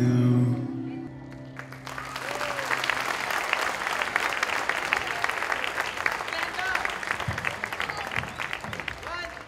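An audience in a hall applauds a group after a performance at a teachers' appreciation event: after a second of voice over a tonal sound, thick sustained clapping rises and continues loudly and evenly to the end.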